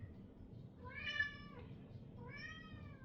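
Two drawn-out meows from a house cat, the first around the middle and the second near the end, standing out over a low steady indoor rumble.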